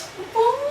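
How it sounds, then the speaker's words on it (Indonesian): A short, rising meow, close and clear, lasting under a second. "Kucing."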